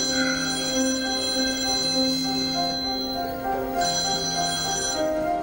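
An unanswered telephone rings on with a steady, buzzing electronic tone rich in overtones, continuous and fairly loud for the whole stretch, with no voices over it.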